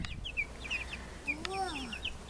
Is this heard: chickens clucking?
yes